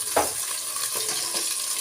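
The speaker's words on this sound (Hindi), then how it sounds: "भिंडियों को मैंने ऑयल में फ्राई करने लगी हूँ" Okra frying in slightly heated oil in a pot, producing a bright, continuous sizzle with a brief stirring clatter near the start, close and fairly loud with no voices.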